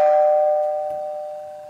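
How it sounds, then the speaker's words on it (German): A single electronic doorbell chime rings out clearly, a sustained bright tone that slowly fades, with no talking. "jetzt muss ich erstmal klingeln"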